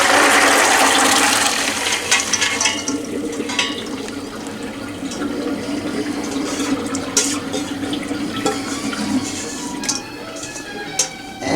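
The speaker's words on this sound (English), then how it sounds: "So what we do is pour all of this into a strainer." Chili pours into a strainer in a kitchen, starting with a loud rushing splash that settles into a steady trickling, dripping flow with small clinks over several seconds, with no talk.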